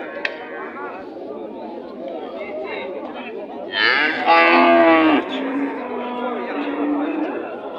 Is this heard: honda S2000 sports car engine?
no